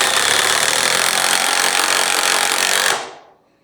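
A power driver whirs steadily as a large structural screw goes into pre-drilled dry lumber, a loud continuous grinding drone lasting about three seconds before cutting off and winding down.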